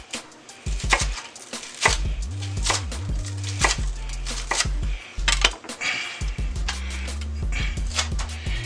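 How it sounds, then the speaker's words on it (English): Cilantro and green onions pounded in a mortar and pestle, giving a series of sharp, irregular knocks and grinding thuds, close and fairly quiet, with a low steady hum in the background. "We're going to take our cilantro, we're going to put it in the mortar and pestle."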